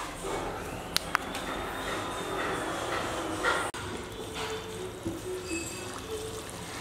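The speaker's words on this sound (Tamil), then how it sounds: "இப்போ குழம்பு நல்லா கொதிச்சு எண்ணெய் பிரிஞ்சு மேலே வரட்டும்." Fish curry (meen kulambu) simmers in a pot, producing a steady, soft bubbling hiss with a few faint clicks and knocks, heard without any talk.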